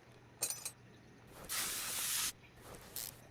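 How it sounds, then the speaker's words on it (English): Penetrant sprayed onto seized head cover bolts in Car Mechanic Simulator 2021, heard as short hissing bursts and one longer sustained spray, close and fairly loud with no talking. "It's never a good sign when you got to start spraying to get the head cover bolts out."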